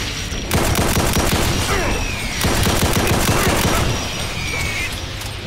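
Dense rapid gunfire and a grenade blast in Brutal Doom, the GZDoom mod, with bursts of shots firing continuously at close range and loud throughout, pausing briefly before resuming.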